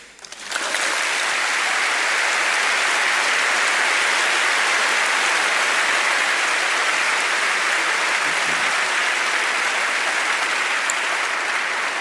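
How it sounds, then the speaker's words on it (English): Sustained, loud applause from a large audience after a televised debate on religion with Christopher Hitchens and Tony Jones, rising quickly and holding steady as a dense roar of clapping. "save your applause"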